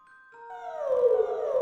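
A small dog howls in a storybook scene, starting as faint rising tones and swelling into a loud, wavering, sliding howl close by, with no talk over it.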